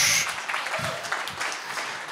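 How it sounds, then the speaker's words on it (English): A church congregation applauds at a New Year's Eve service, a brief, moderately loud wash of clapping that fades after a couple of seconds, with a faint voice underneath. "That's a clap for me wrapping it up."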